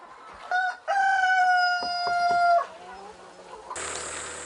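Chickens and roosters at a poultry farm, a rooster crowing loud and close in a long drawn-out call with clucking around it, then a burst of broader farmyard noise at the end.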